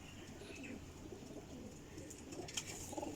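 Teddy high-flying pigeons, a long-flight breed, give faint low coos, with a few soft chirps near the end of a brief quiet stretch.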